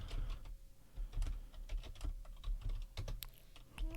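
Fingers type on a computer keyboard in a browser, a close run of irregular key clicks and taps in quick bursts, steady and fairly quiet with no voice over it.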